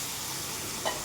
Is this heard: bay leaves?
yes